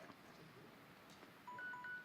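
A timer gives a few short electronic beeps near the end, faint and thin against a quiet room hum.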